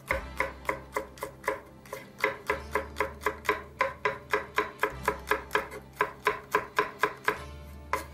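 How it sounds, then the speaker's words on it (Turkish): Steady, rhythmic knife chops through peppers strike a cutting board, about three per second, close and crisp, with brief pauses between runs. "Biberlerimi şu şekilde iri kıyma olarak doğrayacağım."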